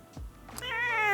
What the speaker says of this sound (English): he's a Maine Coon cat, which is like a very friendly breed